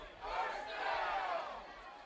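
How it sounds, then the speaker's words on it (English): A high school football crowd at a Bluffton versus Manchester game yells together in one sustained, swelling roar that rises quickly and fades over about two seconds, heard from a distance across the stadium. "Crowd getting the yell out first down a lot tonight."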